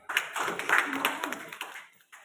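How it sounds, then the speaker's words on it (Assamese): A round of applause for an honoured guest at a cluster-level cooking competition: a dense burst of many hands clapping for about two seconds, fading out near the end. "এখেতৰ কাৰণে এটা হাত চাপৰি হ'ব লাগে।"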